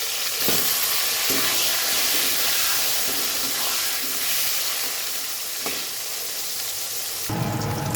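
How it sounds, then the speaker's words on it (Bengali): Eggplant slices frying in hot oil, the same oil just used for potatoes, while preparing a Bengali fish curry with eggplant paste; a steady, close sizzle runs throughout with a few soft stirring clicks. "এই তেলেই আমি বেগুনটা ভেজে নেব।"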